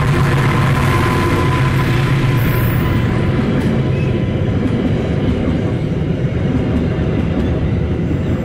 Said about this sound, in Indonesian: Kita akan lihat Pangrango ditarik lokomotifnya pakai lokomotif nomor berapa.